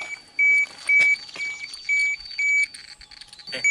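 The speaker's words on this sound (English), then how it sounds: "You see, as further, the beeping start to go lower" A handheld radiation detector at Chernobyl beeps at gamma rays in a steady run of sharp, evenly spaced electronic tones, loud and close against a faint hiss of background noise.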